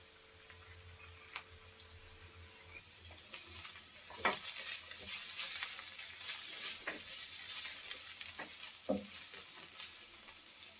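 Spring onion stalks and potatoes stir-fry in a pan over medium heat, with a soft, fairly quiet sizzle and intermittent scrapes and taps of a spatula being stirred through.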